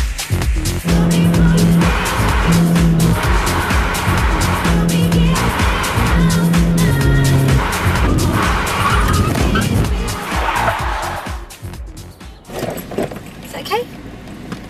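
A car brakes hard with its tires skidding and squealing, a loud, sustained roar and screech dominating the scene while people talk over it before it fades near the end.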